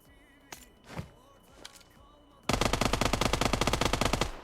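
An automatic rifle fires in PUBG Mobile: after a few scattered thumps, a rapid unbroken burst of loud gunshots rattles on for about two seconds, close and dominant.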